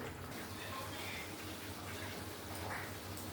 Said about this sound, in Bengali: এবার কিছুক্ষণ ফুটবে, মিনিট 5।